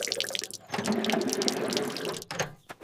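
Water from a garden hose splashes steadily onto plants and wet ground in an herb garden, a continuous close hiss that cuts off sharply near the end.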